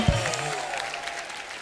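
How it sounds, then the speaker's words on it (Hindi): Brief applause from a comedy show studio audience, a short wash of clapping with a voice faintly under it. "जोरदार तालियां वर्षा जी के लिए हो जाए"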